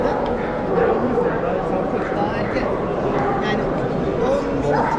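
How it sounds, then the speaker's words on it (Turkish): Wolfdogs gather at an indoor pet fair, their barks and yips scattered through a dense, noisy crowd with people talking throughout. "Wolf Dog'lar toplandı buraya."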